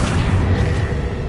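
A Confringo blasting spell detonates in Hogwarts Legacy, a loud, close, deep boom that rumbles continuously through the short moment with no clear onset or tail.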